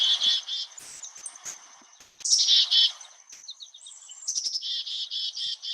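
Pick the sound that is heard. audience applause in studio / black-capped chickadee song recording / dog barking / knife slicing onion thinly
black-capped chickadee song recording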